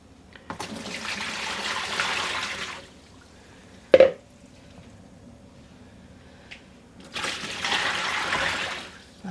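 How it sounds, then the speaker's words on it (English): Water pours steadily into a container for dyeing cotton yarn, a broad rushing stream lasting a couple of seconds, then a sharp knock and quiet, followed by a second pour near the end. "And I'm going to add the water."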